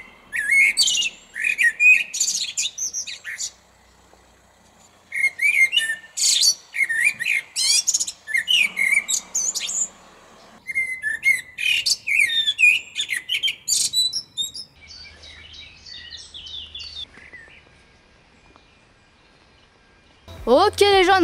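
Birds chirp and tweet at dawn outside a bivouac tent, in close, bright bursts of song separated by short quiet gaps, with a low rustle near the end.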